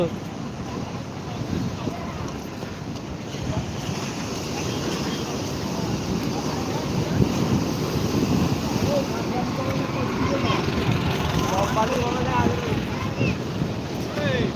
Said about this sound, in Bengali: উত্তাল সমুদ্রে আমরা জলোচ্ছ্বাস দেখতে পাচ্ছি